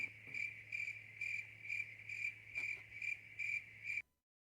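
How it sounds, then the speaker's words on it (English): A cricket chirps in a steady pulsing rhythm, about eight even bursts close by over a faint hum, then cuts off abruptly into silence. "Caleb, play the cricket noise for yourself here."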